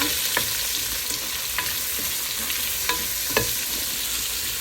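Onions and garlic frying and being stirred in a pan of leftover frying oil for a beef steak sauce, a steady sizzle with a few sharp spatula scrapes and taps scattered through, close and alone.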